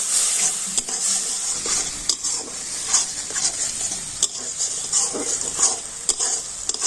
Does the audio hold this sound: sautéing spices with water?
yes